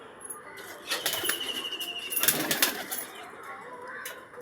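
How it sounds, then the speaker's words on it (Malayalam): Pigeons land one by one at a shed in a burst of close, loud wing flapping, with soft cooing in the background. "പ്രാവുകൾ ഇറങ്ങിത്തുടങ്ങി."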